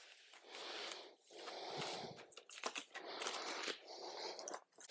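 Deck of game cards being shuffled at a table, quiet bursts of riffling and flapping paper in several short runs with small gaps between them.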